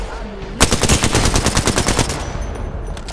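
Automatic gunfire in Apex Legends, a sudden burst of rapid loud shots in a tight rhythm for about a second and a half, then a few quieter trailing shots.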